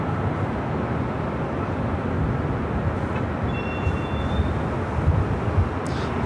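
A Boeing 737 MAX 8 arriving on the north side at LAX gives a steady, broad jet roar that holds at an even level throughout, with no voices over it.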